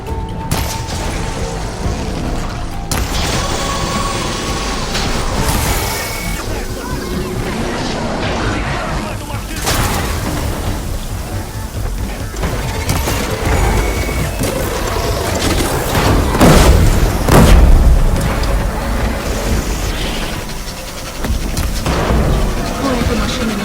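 Heavy cannons mounted on a machine's back boom in the Horizon Forbidden West video game, with loud blasts and crashes over a dense battle din, peaking mid-clip amid continuous combat noise.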